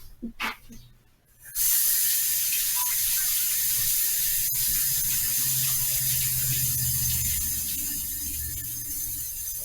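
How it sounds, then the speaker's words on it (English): Hands are washed under a running kitchen sink faucet: a few splashes and handling noises, then a steady close rush of water that keeps flowing and eases slightly toward the end. "I'm going to cut out a round circle in that after I wash my hands."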